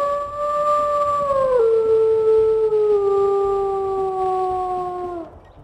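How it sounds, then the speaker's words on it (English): A single long wolf howl from a wolf-life video game, loud and sustained for over five seconds, starting high, stepping down in pitch in a couple of stages, and trailing off at the end, with no talk over it. "Let's go ahead and we'll listen to her howl."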